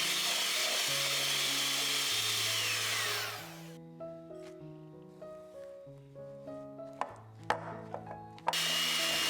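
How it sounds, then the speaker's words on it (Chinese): An electric mixer beats butter and powdered sugar at medium speed for an Earl Grey pound cake, a steady bright whir over soft background music for about three seconds before it stops and only the music continues. "中速搅拌，让空气进入"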